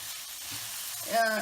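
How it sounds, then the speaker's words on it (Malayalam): Onion, shallots, ginger and garlic sautéing in a pan for a beef and raw banana curry, a soft continuous sizzle that swells briefly near the end with a clatter, no speech. "ഇത് നന്നായി ഉള്ളി, ഇഞ്ചി, വെളുത്തുള്ളി എല്ലാം നന്നായി വഴന്നു വരണം."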